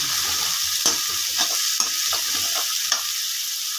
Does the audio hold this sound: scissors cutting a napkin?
no